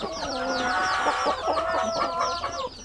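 Aseel roosters in pens, clucking and calling in quick overlapping bursts, close and fairly loud, with several birds sounding at once and no speech.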